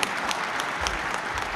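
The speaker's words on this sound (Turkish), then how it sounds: "Alkışlarla uğurluyoruz kendilerine." An audience at a federations' gathering in Çankırı gives a short burst of applause, a dense, even patter of many hands at moderate loudness with no talking.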